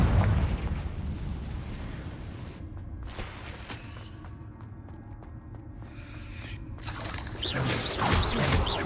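A Confringo explosion spell from the video game Hogwarts Legacy lands as a loud burst, then a quieter rumbling lull and a second explosive swell near the end, close and forceful with no talk.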